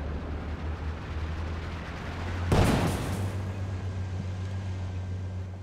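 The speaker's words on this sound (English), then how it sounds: "PD Mortar now coming in for 1." In a video game, a single heavy mortar artillery impact booms over a steady low background hum, then fades into a rumbling tail.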